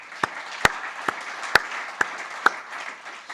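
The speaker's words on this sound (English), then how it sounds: "So also there, please, an applause." Sparse applause from a small audience for the technicians at a Kiel conference closing, with a few distinct, loud claps standing out over a soft patter of clapping.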